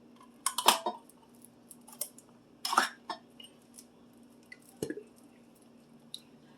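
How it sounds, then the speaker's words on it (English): Tomato puree and a can of Campbell's tomato soup glop wetly into a crock pot, a few scattered squishy plops and drips, close and fairly quiet, with no talking. "First you're going to dump in the rest of your puree."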